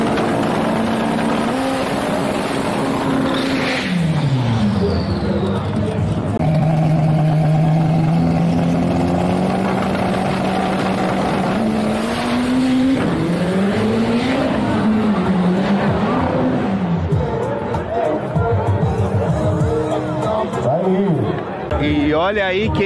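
On a racetrack, 4x4s, Chevettes and a Fusca roar past: loud engines rise and fall in pitch as they accelerate and pass, overlapping one another, with a voice talking over the engine noise.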